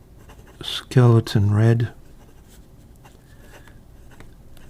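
A scratchy fine nib on a Jinhao 100 fountain pen scrapes faintly across paper after a short spoken phrase, the soft scratching continuing quietly on its own.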